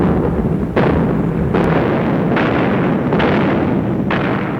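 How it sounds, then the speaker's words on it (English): A massive artillery barrage roars as a loud, continuous rumble, with heavy booming blasts hitting about once a second and each one rolling into the next without pause. "After a massive artillery barrage"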